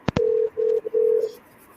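A telephone ringback tone on an outgoing call, two short clicks followed by three steady electronic tone bursts of uneven length, clear and alone with no talking.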